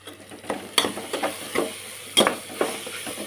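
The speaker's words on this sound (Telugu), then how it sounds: "ఇది కొంచెం పచ్చివాసన పోయేదాకా వేపుతాం ఆయిల్లో" Chili powder fries in hot oil for a goat tripe and tomato curry, a soft steady sizzle broken by irregular scraping stir strokes and clinks of a spoon against the pan.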